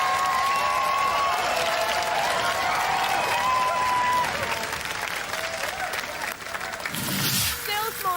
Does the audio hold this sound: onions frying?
no